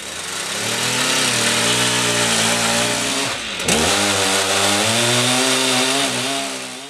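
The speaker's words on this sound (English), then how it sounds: "fire up the old 880. Incidentally, this is an example of the world's biggest production chainsaw." A Stihl 880, the largest production chainsaw made, runs loud and close with a steady heavy engine drone that briefly dips and revs back up midway, used for cutting timber for a two-seater solid picnic bench.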